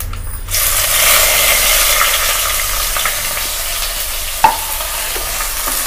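Garlic and ginger frying in hot oil for fish head curry, a loud continuous sizzle with a sharp clatter near the end.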